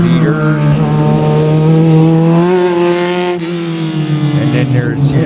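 Spec Racer Ford race cars at Sebring racetrack pass in a loud, sustained engine drone whose pitch rises, then falls and wavers as the cars go by close to the listener.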